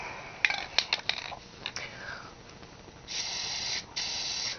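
Spray paint hissing from a can fitted with a fat cap, tested with a cheap brand of paint; a few short taps and hisses come first, then two sustained, steady bursts of close spray.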